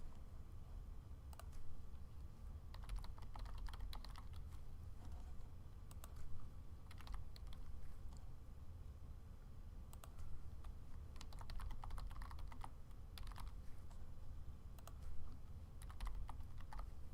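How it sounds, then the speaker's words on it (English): Quiet typing on a computer keyboard, with irregular clusters of light key clicks and short pauses over a soft background hum, and no talking. "you type in your questions up here, and then you type in your answers down here"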